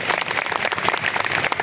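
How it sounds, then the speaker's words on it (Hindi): A crowd of memorial workers at a Lucknow gathering claps, a dense burst of loud applause with many overlapping hand claps, heard close and alone. "एक बार जोरदार तालियां"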